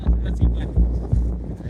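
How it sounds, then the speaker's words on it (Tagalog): Gusty wind buffets the microphone at the Helsinki port, a low rumbling roar with rhythmic thumps, loud and close, with no clear voice. "Medyo mahangin. Kaya di masyadong klaro yung salita natin dito sa pagkukuha natin ng video."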